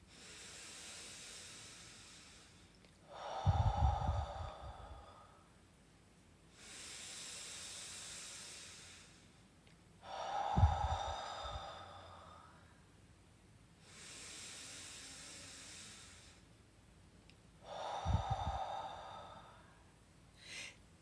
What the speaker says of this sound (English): breathe in through your nose, fill up your belly under your belly button, breathe out through your mouth